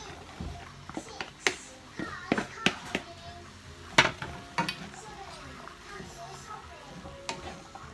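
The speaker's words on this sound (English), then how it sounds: "And give that a good stir around" A spoon stirs browned beef and added vegetables around a pan, giving sharp scraping clatters and knocks against the pan over a faint sizzle, close and uneven; a voice is faintly audible in the background.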